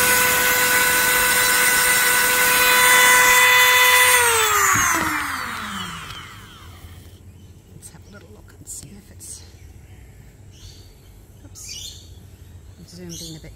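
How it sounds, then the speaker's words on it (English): A small rotary sanding tool whines at a high steady pitch on resin, then spins down and stops, leaving quiet handling noises and a soft voice. "I think you get pretty good control with this little sanding tool"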